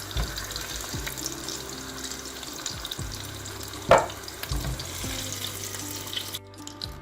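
Peppers fry in a pan with a moderate, continuous sizzle, interrupted by a few low knocks and one sharper clatter as they are turned, before the sound cuts off briefly at the end.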